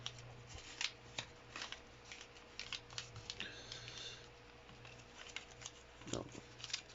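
Paper being folded into an origami crow, with soft crinkles, rustles and scattered creases over a steady low hum, close by and faint, continuing for several seconds.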